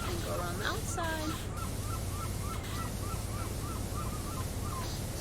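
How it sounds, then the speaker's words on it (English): Seagulls in Powerwash Simulator call repeatedly overhead, a series of short squawks and cries in a regular rhythm over steady ambient game noise, with a voice talking in places. "Sound of seagulls in the air."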